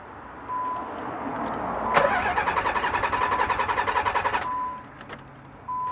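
A Nissan 300ZX engine that will not start cranks with a steady, rapid rhythmic churning for about two and a half seconds, then stops. The engine never catches, and a faint hum can be heard before and after.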